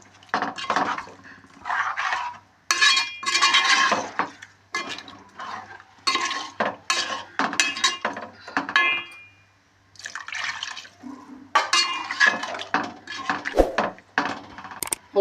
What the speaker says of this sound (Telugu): నీళ్ళు వేసుకున్నాక నింపాది కలుపుకోవాలి.